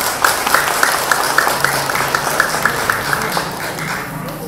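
A crowd applauds at a Buddhist dharma talk, steady clapping alongside a faint rhythmic tapping beat, fairly loud and close with no speech on top.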